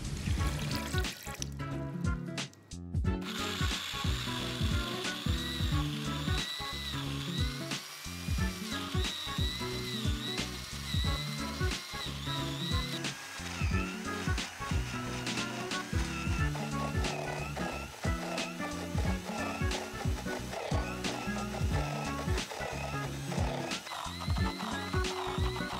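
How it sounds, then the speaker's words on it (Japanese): Blender whirring as it purees overnight-soaked, drained dried chickpeas into a paste, a steady motor drone with rhythmic pulsing and a brief dip near the start. "乾燥したひよこ豆を一晩水に浸水させて戻したものをしっかり水を切ってブレンダーに入れてペースト状にしていきます。"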